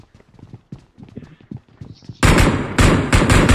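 A horse gallops in the mobile battle royale game BGMI, with quick hoof clops under soft game sounds, then a loud continuous burst of gunfire swamps the second half.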